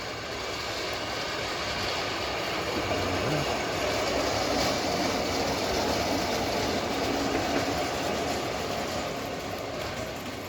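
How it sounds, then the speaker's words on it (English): Train pulling into a rural station in northern Thailand near Lampang, a steady broadband rumble of rolling wagons holding at an even level throughout, with no talk. "And the next train arriving."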